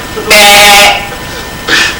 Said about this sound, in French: Le cri caractéristique du mouton est le bêlement.